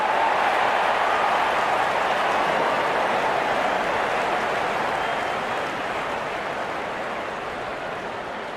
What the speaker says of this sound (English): The crowd is enjoying every bit of this action.